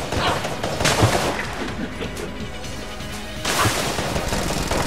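Shots from the gore gun in the Enter the Gungeon video game crackle in dense, rapid bursts, loud at first, thinning in the middle, then surging again toward the end.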